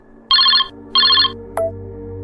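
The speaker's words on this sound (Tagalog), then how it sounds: "Nang makasakay na sa kulay itim na kotse, ay tumawag na naman si Romel" A cellphone rings with an incoming call: two short electronic ringtone bursts play close and clear, then a brief high blip follows over a quiet background hum.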